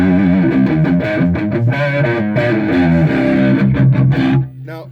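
A loud, overdriven electric guitar through an EarthQuaker Devices Speaker Cranker pedal plays chugging chords and riffs with thick distortion, then cuts off abruptly at the end.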